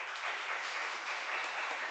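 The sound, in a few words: audience applause for volunteer teachers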